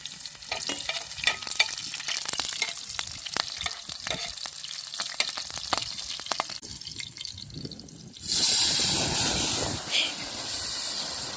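Garlic and green chillies frying in hot oil in a pan for a vegetable dish, crackling and spattering with scattered pops, then a louder surge of hissing sizzle near the end, close by.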